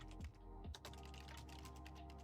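Clicking keystrokes on a noisy computer keyboard, with a few sharper taps near the start, then quicker light clatter over a steady low electrical hum; no voices.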